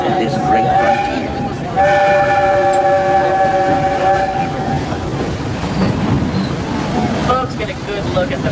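A Disneyland Railroad steam train rumbles and clatters along the track, with a steady whistle tone sounding for a few seconds in the middle and voices talking over it.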